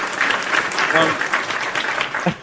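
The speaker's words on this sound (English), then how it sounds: "Ladies and gentlemen, let's give a round of applause to Big Trouble Ben Bishop" Steady crowd clapping fills the space, with a voice speaking over the applause briefly.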